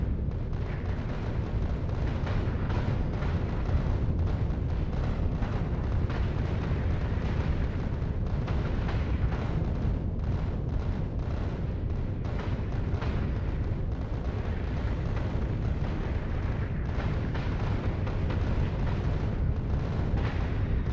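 Railguns fire at a huge asteroid in a space video game, a dense, sustained rumbling barrage of booming shots rolling on continuously at steady loudness with no talk.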